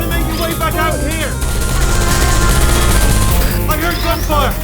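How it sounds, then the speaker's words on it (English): Sustained rapid gunfire in the video game Portal 2, a dense, loud, continuous volley of shots running through the whole stretch, with tonal voice-like sounds mixed over it. "I heard gunfire!"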